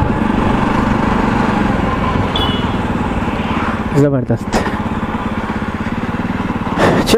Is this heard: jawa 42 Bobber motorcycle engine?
yes